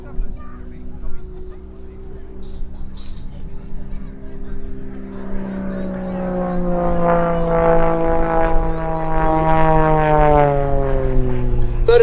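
An Extra EA-330SC aerobatic plane rolls at an airshow, its propeller engine droning loudly and rising in pitch as it nears, with a commentator talking over it throughout.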